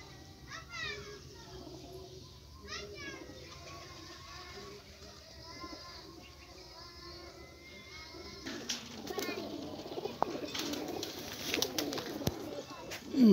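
Pigeons settling onto a city rooftop during a pigeon-flying session: soft cooing and bird calls mix with children's voices and people talking nearby, and the crowd noise grows louder and busier over the last few seconds.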